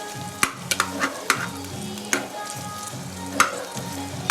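Onions sizzle steadily in hot oil for a tomato biryani, with whole spices such as mace and a biryani leaf in the pan, while sharp clinks of a spoon stirring punctuate the frying every second or so.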